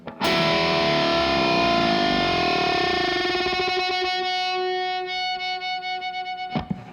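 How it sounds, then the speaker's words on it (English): A distorted electric guitar bend: two sustained notes clash and waver, then slide together into tune, ringing out loud before a quick choppy fade. "we get this great sound of two notes being out of tune and then going into tune"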